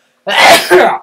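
A single sneeze, a loud close burst of breathy noise in two quick parts lasting about a second, alone against silence.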